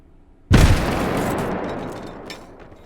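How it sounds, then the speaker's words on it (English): A loud, sudden explosion in the VR shooter game H3VR: a heavy boom that hits hard, then rumbles and slowly fades over about two seconds, with no voices. "that explosion was definitely a little more effort for the game to compute"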